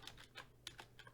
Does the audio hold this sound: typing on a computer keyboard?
yes